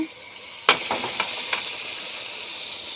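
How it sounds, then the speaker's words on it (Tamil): Tomatoes drop into a hot pan with a sharp sizzle, followed by a few stirring clatters and a steady frying hiss that slowly settles. "அடுத்தது தக்காளி போட்டுக்கலாம்ப்பா"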